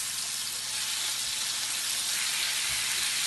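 Beef steaks and diced beef sizzle loudly in a hot pan, a dense continuous crackling hiss with faint low knocks underneath and no talking.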